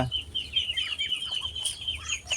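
Chickens clucking and calling close by on a small farm, with a high steady chirping running through the whole stretch.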